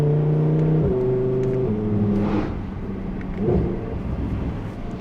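An Audi R8 V10 Plus climbs a hill, its engine revving hard through rising pitches with quick upshifts that drop the note, loud and close, then easing off to a lower throttle drone.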